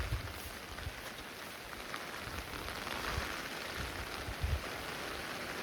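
Steady monsoon rain patters densely on nearby surfaces on a slippery forest trail in Satara, continuous and fairly loud, with no voices.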